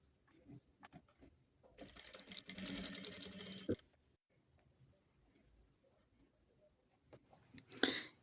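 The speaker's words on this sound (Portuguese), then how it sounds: "alinho as duas partes e passo uma costura pé de máquina" A sewing machine runs a short straight seam joining two fabric pieces of a Mondrian-style bag, a brief quiet whirring burst of rapid stitching between faint handling clicks and rustles.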